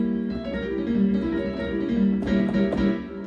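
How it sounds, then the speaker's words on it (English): A piano lesson on Bach with a sustained, tense diminished chord ringing steadily under light re-articulations, close and moderately loud, with no talking. "that's the sound of a diminished chord"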